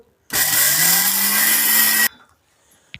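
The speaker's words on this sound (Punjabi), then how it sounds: "ਥੋੜੀ ਜਿਹੀ ਦਰਦਰੀ ਪੀਸ ਲਿਓ ਨਹੀਂ ਫਾਈਨ ਪੇਸਟ ਬਣਾ ਲਿਓ ਬਿਲਕੁਲ ਪਾਊਡਰ ਕਰ ਲਿਓ" A mixer grinder grinds moong dal into powder for halwa, giving a loud, steady motor whir that starts abruptly, runs for just under two seconds and then cuts off, with no talk.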